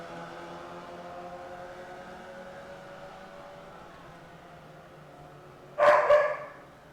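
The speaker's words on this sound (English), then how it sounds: "He's a big, scary German Shepherd." A big German Shepherd gives a loud, close double bark near the end, following a stretch of steady low humming background.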